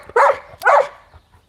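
A dog gives two sharp, close barks in quick succession, each short and loud, followed by a faint trailing whimper.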